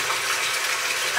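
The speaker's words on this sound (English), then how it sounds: "you can hear the water's running" Water runs from a kitchen tap in a steady, even hiss with no voices over it.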